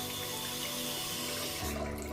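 Water runs steadily from a WaterSong farmhouse modern kitchen faucet into a sink, a close, constant splashing hiss that stays loud throughout.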